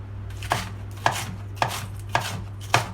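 A knife chops Charliston peppers on a cutting board in five crisp, evenly spaced strokes, close and clear over a low steady hum.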